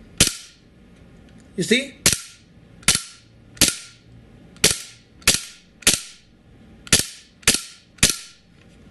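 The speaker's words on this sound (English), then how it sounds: "the one that shoots harder with a louder bang, louder blowback, and more power" About a dozen sharp, loud shots from a KWC Desert Eagle .50AE gas blowback airsoft pistol with steel magazines, crisp cracks at an uneven steady pace, with a brief spoken remark early on.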